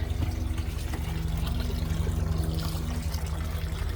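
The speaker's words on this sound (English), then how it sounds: "That's both gray water and fresh water being dumped." RV gray water and fresh water pour out in a steady, continuous gush as the tanks are dumped, a close splashing flow with a low rumbling undertone that never lets up.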